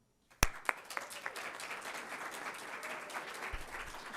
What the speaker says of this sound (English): Those claps and wahoos were not for Patrick Wade.